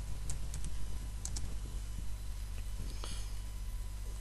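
Typing on a computer keyboard, a few scattered key clicks over a loud steady hum, fairly faint and irregular.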